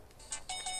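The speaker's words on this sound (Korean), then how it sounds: "벨소리 좀 바꾸라니까." A mobile phone ringtone plays a few short, bright electronic tones in quick succession, fairly faint, with no talking.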